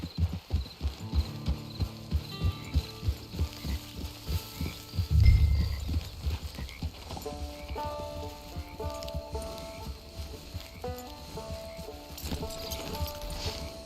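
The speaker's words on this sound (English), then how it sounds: "It's your horse." Rhythmic clip-clop of a horse's hooves at a steady walking pace in the video game Red Dead Redemption II, close by, accompanied by background music with sustained tones.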